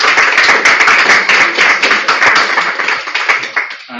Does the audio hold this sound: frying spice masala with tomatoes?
no